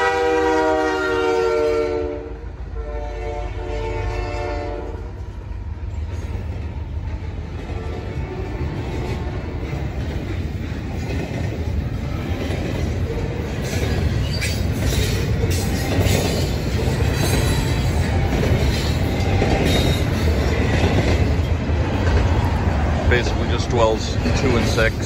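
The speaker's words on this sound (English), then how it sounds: "There's the train." A train horn blares near the start at a railroad crossing, then a train rumbles past loudly and continuously, wheels clattering over the tracks.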